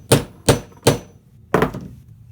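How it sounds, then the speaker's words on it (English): A regular hammer strikes a metal punch resting on a wooden block, four hard knocks, three evenly spaced and a fourth after a short pause, close and loud. "I just hit it with a regular old hammer."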